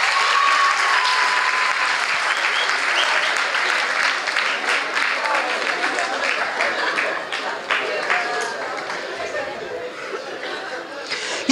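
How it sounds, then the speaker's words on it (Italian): Sustained audience applause fills a talk-event hall, dense clapping steady and loud throughout with a murmur of voices beneath. "Grande, un applauso a Maria."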